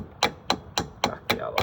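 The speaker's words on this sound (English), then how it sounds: "Then we'll just tap that" A hammer taps a wheel bearing part back into place on a caravan hub, giving six sharp, evenly spaced metallic knocks at close range.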